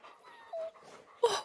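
Sled dogs in The Pale Beyond video game give short whimpers and a yip, close and fairly quiet, with brief gaps between the sounds.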